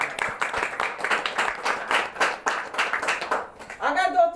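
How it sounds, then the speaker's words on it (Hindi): Audience applause at a Hindi-speaking gathering in Lucknow, a dense, steady run of many hands clapping together for several seconds, fairly loud and close, with a brief squeal of feedback or noise near the end. "एक बार सर के लिए जोरदार ताली"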